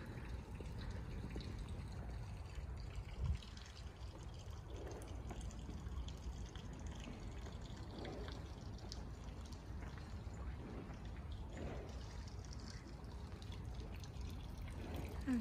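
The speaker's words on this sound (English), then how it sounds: "here we have those fountains that we have seen in many, many videos as well" Water from a village fountain in Veyrier near Geneva splashes and trickles in a continuous, even wash, soft and steady outdoors with no voices.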